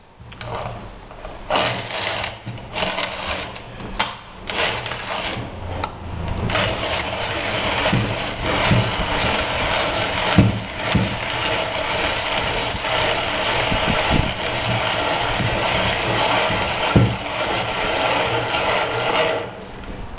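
A hand-cranked 1930s Dienes 646 coffee grinder crushes a scoop of beans with a continuous gritty, rasping crunch and a ratcheting rhythm from the turning crank, close and fairly loud, with no talking.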